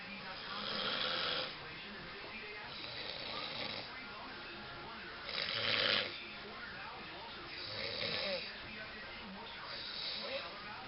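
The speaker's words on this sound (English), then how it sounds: "Now it's time to go to the lady that snores a lot." A woman snores loudly in a dark bedroom, with deep rasping breaths swelling at a slow, steady rhythm over a constant background hiss, recorded up close.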